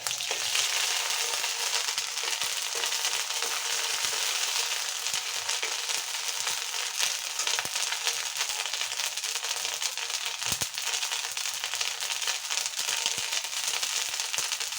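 Bay leaf, dried chili, cumin and ginger fry in hot oil with a dense, continuous sizzle and scattered crackles and pops, close and loud, with no talking.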